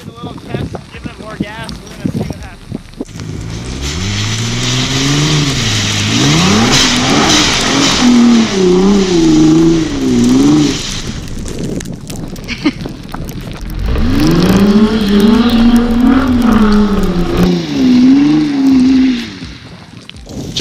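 A Nissan GT-R on summer tires revs hard in two long surges on snow, pitch rising and wavering as the wheels spin, with a brief lull between bursts.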